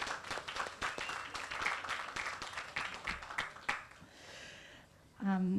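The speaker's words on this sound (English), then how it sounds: "please, a round of applause to thank them for their representation today." An audience at an East Ward community meeting on environmental justice applauds, a dense patter of clapping that fades out, followed by a brief voice at the end.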